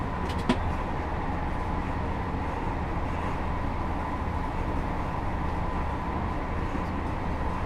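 A fast train passes on the East Coast Main Line in the Train Sim World 4 video game, a loud, continuous low rumble and roar that holds steady throughout without talk.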